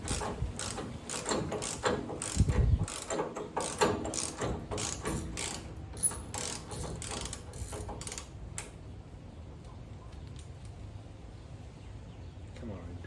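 A hand ratchet clicks steadily as it turns a 12-point socket on a Wilwood Tri5 disc brake setup, with rapid pawl ticks through the first eight seconds before it goes quiet, and faint talk in the background.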